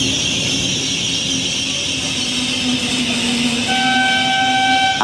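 Trenitalia Fyra V250 high-speed train being towed through Monterotondo station: a steady, loud rumble of passing rail cars with a long wheel squeal, and near the end a sharp two-tone horn blast sounds over the noise.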